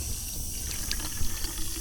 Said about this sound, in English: It's filling up a bottle of water.